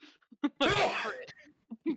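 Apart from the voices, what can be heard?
sneeze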